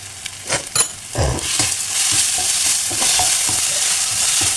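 Ginger and tamarind sauté in a hot pan, opening with a few clattering spoon scrapes and then settling into a loud, close, continuous sizzle.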